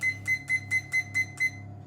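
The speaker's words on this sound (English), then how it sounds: "So I've just got my timer." Seven evenly spaced sharp electronic beeps from a kitchen timer being set, quick and close, each a short bright tone with short gaps, followed by a brief quiet tail.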